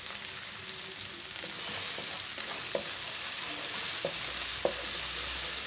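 Green chilies fry in hot oil with a steady, fairly loud crackling sizzle, broken by a few sharp utensil clicks and stirring scrapes, with no voices.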